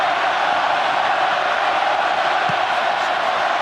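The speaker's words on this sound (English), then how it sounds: "Both sets of fans up off their feet, making themselves heard." Rugby fans roar and cheer across a stadium at an Ireland versus Wales quarterfinal in Wellington, New Zealand, a loud, continuous wall of crowd noise with a commentator's voice over it.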